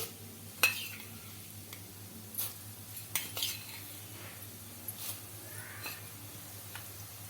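Urad dal, coriander seeds and cumin dry-frying in a pan for an onion chutney, with scattered soft scrapes and clinks of a spoon stirring over a low steady hum, no talking.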